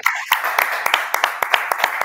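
Applause from a seminar audience at a talk on sustainable pig production systems, with a steady wash of many hands and sharper individual claps standing out at an irregular rhythm for about two seconds.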